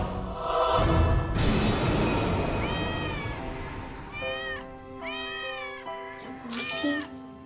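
A cat meows several times in a row, close and clear, with short rising and falling cries, the later ones in quick pairs, and no voices over it.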